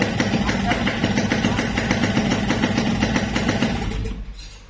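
A Yamaha RX King motorcycle engine idles smoothly up close, giving a fast, even, buzzing two-stroke beat that holds steady and then fades at the end.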